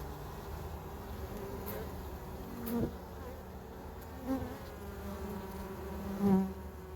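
Steady buzzing of many bees close by, a continuous drone with a few louder passes as individual insects fly near.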